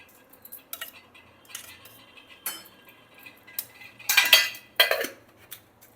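A metal kadai is set on a stove for ghee while cooking semiya and sago payasam, producing a run of close metallic clanks and clatters that grow louder and busier toward the end, with quiet gaps between them.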